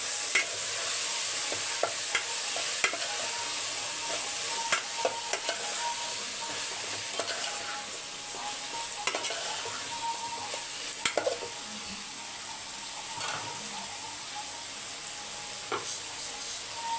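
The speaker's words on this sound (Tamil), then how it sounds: "பிழிஞ்சி வச்ச மில்மேக்கர் மிக்ஸ் பண்ணி விட்டுக்கலாம்" Squeezed soya chunks (meal maker) are stirred into a sizzling pan, giving a steady frying hiss with repeated scraping strokes of a spoon throughout. Nobody speaks.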